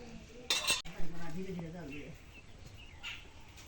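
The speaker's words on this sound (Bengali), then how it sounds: "একটু নাড়া দিই ঢেকে দিই এখন" A pot of hilsa fish curry is briefly stirred and then covered, with a loud metallic clank of the lid followed by quieter clinks, and a person speaking nearby.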